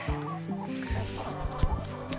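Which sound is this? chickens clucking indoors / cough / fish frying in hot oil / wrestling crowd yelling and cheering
chickens clucking indoors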